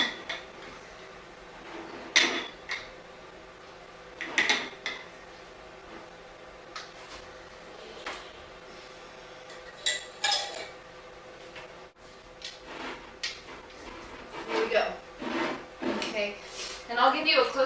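A small container is pressed down into a glass jar of garlic dill carrots and a lid is fitted, giving scattered clinks, taps and knocks of glass and utensils at irregular intervals.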